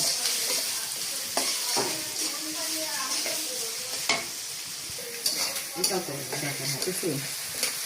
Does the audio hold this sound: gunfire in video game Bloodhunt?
no